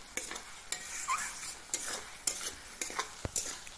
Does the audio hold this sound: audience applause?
no